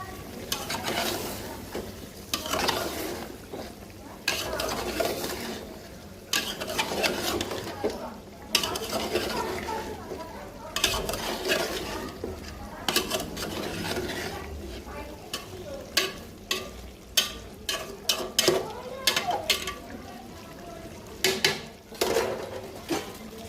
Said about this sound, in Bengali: কাঁচামরিচ দিয়ে দিব তো নেড়ে চেড়ে ঢেকে দিব ঢাকনাটা উঠিয়ে আবারও নেড়ে চেড়ে দিব